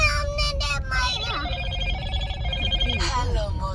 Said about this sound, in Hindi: मेरा फोन आ गया।